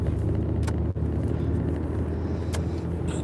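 A car driving along a street at night, heard from inside as a steady low engine and road rumble with a few faint clicks and thumps, with no talking.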